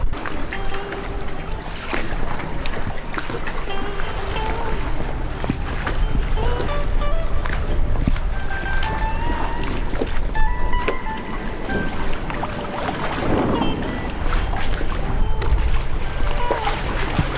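A sailboat moving slowly in very light, almost calm wind, with a steady broadband wash of water and breeze, creaks and small clinks from the rigging running throughout at moderate level, no voices.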